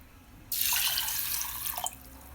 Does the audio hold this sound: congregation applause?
no